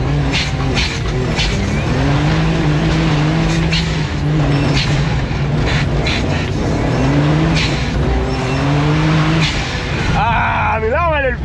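Engine of a driver's own car on a lap of a race circuit, held in second gear, droning steadily and loud with rising and falling revs, a fast upward rev climb near the end, voices talking over it.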